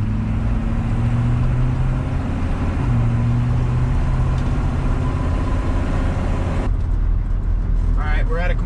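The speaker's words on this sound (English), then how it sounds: "We'll go ahead and take it on a little test drive." A GMC Square Body truck with a 6.2L diesel engine on a test drive, its steady engine drone and road rumble loud and close throughout, with a voice talking over it.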